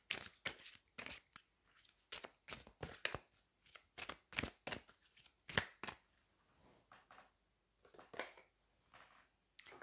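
Tarot cards riffled and shuffled by hand in a rapid run of crisp, papery flicks and slaps, close and fairly quiet, with brief pauses between bursts and no talking.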